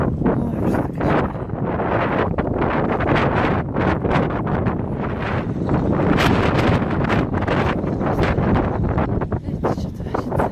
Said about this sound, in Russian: Минус 24. И вот такой ураган поднялся.